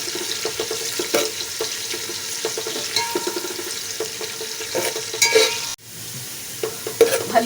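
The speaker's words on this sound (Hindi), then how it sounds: "इसको फ्राई करेंगे, हल्का फ्राई करना है इसको, बिल्कुल ब्राउन नहीं करना।" Ingredients for aloo tahari, potato rice, frying lightly in a pan, with a soft steady sizzle and repeated scraping stirs, plus a brief clatter and a pause near the end.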